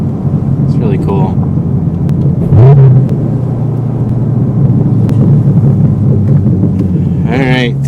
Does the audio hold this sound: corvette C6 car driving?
yes